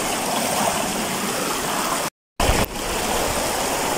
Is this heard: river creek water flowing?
yes